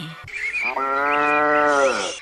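A dairy cow on a farm in Krishnapuram, Kanchipuram district, gives one long, loud, close moo lasting about two seconds, with no talk over it.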